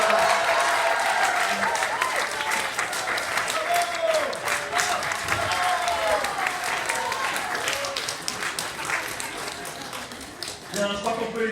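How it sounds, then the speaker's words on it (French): Audience at a teddy bear wedding applauds steadily for about eleven seconds, with voices talking and exclaiming over the clapping, which slowly thins toward the end. "Bravo, je crois qu'on peut les applaudir à Nicolas."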